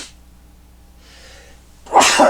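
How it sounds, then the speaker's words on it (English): A single loud, close human sneeze bursts out at the end after a quiet intake of breath, sharp and sudden against near silence. "there's that sneeze I was looking for"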